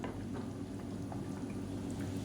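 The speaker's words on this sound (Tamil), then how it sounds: "சிம்மில் ஒரு நிமிஷம் அப்படியே விட்டுடலாம்" Egg gravy simmers on low heat with the oil separating, giving a faint, steady, soft bubbling hiss that continues evenly without talk.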